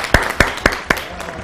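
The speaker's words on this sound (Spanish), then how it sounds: "un aplauso para todos los jóvenes de nuestro departamento" Sparse hand claps during a studio TV health programme, four sharp, evenly spaced claps close by and fairly loud, with no voices between them.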